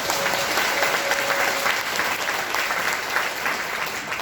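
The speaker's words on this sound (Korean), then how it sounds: "우리 초청 강사님 이승현 목사님께 다시 한번 박수 올리겠습니다" A seminar audience at a Christian cultural association gives sustained applause for guest speaker Pastor Lee Seung-hyun, a thick, steady roar of many clapping hands in a large hall, loud and unbroken throughout.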